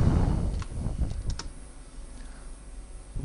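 Quick typing on a computer keyboard while working in Excel, a burst of close, crisp key clicks in the first second and a half, then a quiet stretch with only a low hum.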